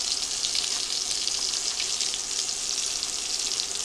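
Thin cut pork chops sear in a hot pan for a no-breading breakfast dish, giving a steady, loud, dense sizzle that carries on without a break and with no voices.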